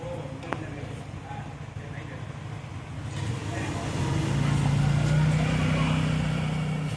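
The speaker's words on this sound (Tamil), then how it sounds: "இப்போ நம்ம ஆயிலை ஊற்றிட்டு ஓகே வண்டி கொஞ்சம் ஸ்டார்ட் பண்ணி பார்த்துருவோம்" A motorbike engine starts and settles into a steady idle after clutch repair and an oil refill, the low running hum rising and growing louder in the second half of the clip.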